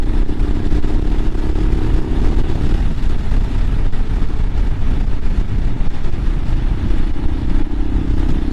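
A Royal Enfield Himalayan motorcycle rolls on the throttle in fifth gear from about 40 mph on Ortega Highway 74, its steady engine drone loud and continuous under heavy wind rush throughout.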